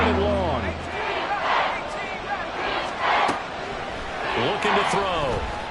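A roaring stadium crowd from a Madden football video game swells and surges in waves, loud and full, with a commentator's voice talking over it.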